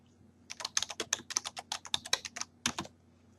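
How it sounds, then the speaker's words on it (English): Rapid keystrokes on a computer keyboard while entering text into a Microsoft Word 2010 form: a quick, close run of about twenty crisp taps, with a short pause before a final cluster. "And then type in your text"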